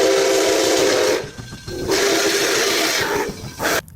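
A toy steam train gives off loud, breathy whistle blasts with hiss, sounding in two long bursts separated by a brief pause.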